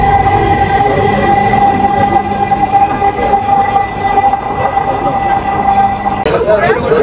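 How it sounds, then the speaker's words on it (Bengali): Dhaka metro train running, a loud continuous rumble with a steady tonal whine inside the carriage, ending with a brief sharp clatter. "আমাদের মেট্রোতে গন্তব্য শুরু হলো।"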